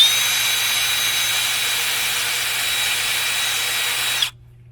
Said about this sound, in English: I'm trying to wire wheel it off